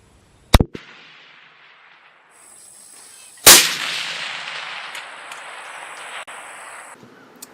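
Two sharp .22-250 rifle reports on a long range shooting course with targets at 1,000 yards, the second loud crack followed by a long rolling echo that fades over several seconds.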